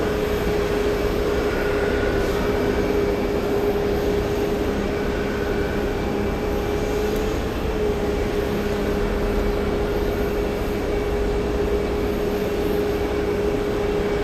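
A Hainan Airlines Boeing 787-9 Dreamliner arrives at Boston Logan after a long flight from Beijing, its engines a steady, broad, distant roar with a faint whine that holds evenly throughout, and no talk.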